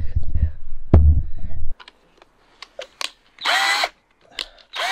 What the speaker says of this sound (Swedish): En skruvdragare.